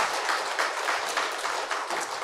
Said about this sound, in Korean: 우리 하나님 앞에 영광의 박수하겠습니다.